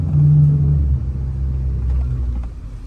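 Maruti Suzuki Victoris SUV engine on an off-road climb at steady throttle, a low close rumble that swells briefly and then holds at an even drone.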